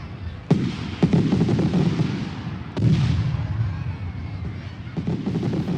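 Several sharp fireworks bangs crackle across a few seconds, some sharp and close, with softer popping in between.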